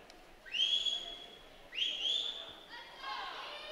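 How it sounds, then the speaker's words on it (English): Two sharp rising whistle blasts from a coach ring out over a noisy, echoing indoor swim meet crowd, followed by distant cheering. "We hear the whistling from Coach Golbeski."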